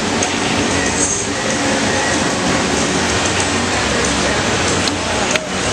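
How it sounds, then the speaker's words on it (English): A train, part of a model train display at a fan convention, runs continuously with a steady rumbling clatter and a brief squeal near the end, loud against a busy crowd background. "Trains! We found more trains."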